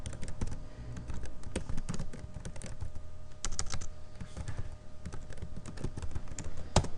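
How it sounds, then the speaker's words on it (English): Rapid typing on a computer keyboard while entering R code, with dense, irregular bursts of clicking keys that run close and steady throughout and no talk. "and then I go ahead and type that in"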